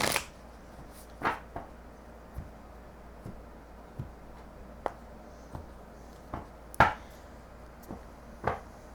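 Tarot cards being shuffled by hand in a quiet room, a series of soft, irregular riffling and tapping bursts spaced a second or so apart, close and fairly faint.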